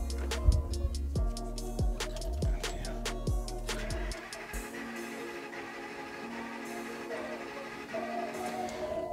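A Ford Excursion engine cranking during a compression test, giving a loud rhythmic chug of evenly spaced pulses for about four seconds before settling into a quieter steady mechanical hum.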